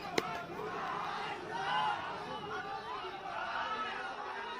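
Protesters at an election rally in Muzaffarpur, Bihar, shout anti-Nitish Kumar slogans, heard as a rough, overlapping crowd clamor of raised voices and chatter at moderate distance, without pause.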